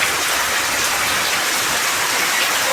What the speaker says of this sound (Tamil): ஓய் மழையா பெய்யுது